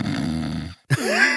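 A player's voice imitates a deep whiskey snore in two parts: a long, rumbling guttural inhale, a short pause, then a throaty grunting exhale.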